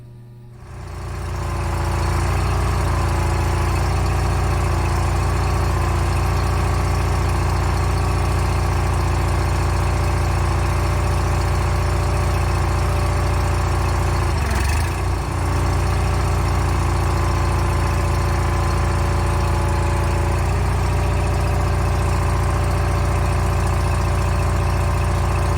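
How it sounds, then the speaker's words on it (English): A garden tractor fitted with a home-built hydraulic loader idles steadily up close, its engine holding a constant low rumble for the whole stretch. The tone dips briefly once partway through. "the tractor is simply idling"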